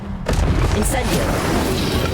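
An Incendio fire spell cast in Hogwarts Legacy bursts with a sudden loud whoosh and boom, then settles into a sustained roaring rumble with a brief bright crackle.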